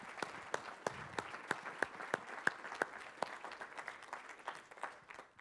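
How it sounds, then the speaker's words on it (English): Sparse audience applause at a university dean's discussion event, distinct individual claps ringing out in a quiet room, faint and thinning toward the end with no talk. "a round of applause to Bill"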